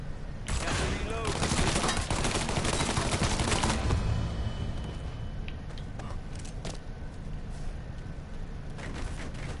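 Gunfire in the Mafia III video game at a shooting gallery, a dense run of rapid shots loud in the first four seconds, then thinner scattered bangs and rumble continuing to the end.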